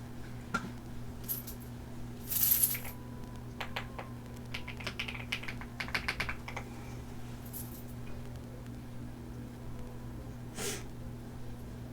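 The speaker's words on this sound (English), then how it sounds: "Oh, let me type to you." Faint tapping on a computer keyboard in a quiet room over a steady low electrical hum, with scattered clusters of keystrokes and a few brighter clicks, no talk.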